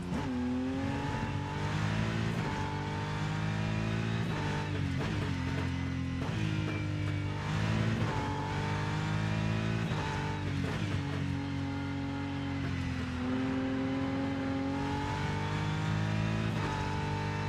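A race car engine in the Rennsport VR racing game revs steadily around a track, its loud, continuous drone rising and falling with each gear change and throttle shift, heard alone without talk.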